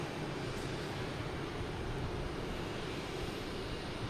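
A jet airliner, a 767, passes at Logan Airport with a broad, steady roar of engine noise that stays fairly constant and moderately distant.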